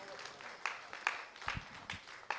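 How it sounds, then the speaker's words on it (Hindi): An audience claps for a singer at a Hindi poetry or music event, with a handful of sharp, scattered claps and brief bursts heard faintly and at a distance. "एक बार जोरदार तालियां इनके लिए बजा दीजिएगा"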